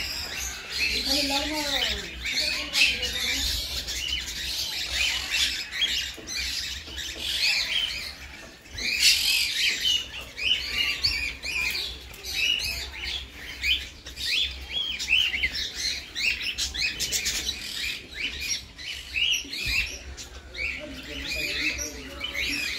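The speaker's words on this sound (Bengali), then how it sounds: "এইগুলো হচ্ছে ককটেল পাখি" Cockatiels in a zoo aviary at a picnic spot squawk and chirp continuously, a busy chatter of overlapping calls at moderate distance, with people talking faintly in the background.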